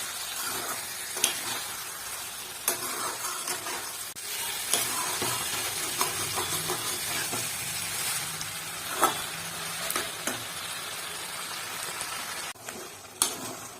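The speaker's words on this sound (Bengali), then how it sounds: "ততক্ষণ কষিয়ে নিতে হবে ব্রাউন কালার হবে আর তেল মশলা কড়া থেকে ছেড়ে যাবে" Chicken being sautéed in oil and spices in a pan until browned, a steady close sizzle and crackle punctuated by irregular scraping and stirring clicks throughout, with no talking.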